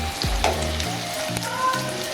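Potatoes frying in a pan while a biryani is being made, a steady close sizzle and crackle with a few scraping stirs and clatters, no voices.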